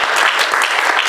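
Audience clapping inside a historic African American church in Champaign County during a community forum, a dense, steady burst of many hands that fills the short moment at close range.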